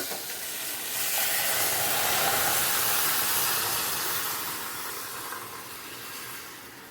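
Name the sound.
pressure cooker steaming sambar with drumstick and potato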